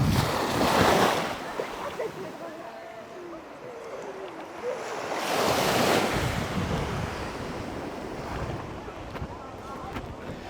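Surf rolling onto a clear-water beach on Koh Lanta, Krabi, with two louder swells of breaking waves amid steady wash and wind noise, no talk.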